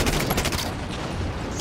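Dense overlapping gunfire from several players in Halo 5 on the Darkstar map, a loud, continuous barrage of rapid shots with no gaps, close and sustained.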